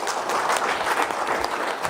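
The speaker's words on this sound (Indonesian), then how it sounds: "Pak, berikan aplaus Bapak." An indoor audience gives a short burst of applause, a dense wash of many hands clapping at once, steady and fairly close throughout.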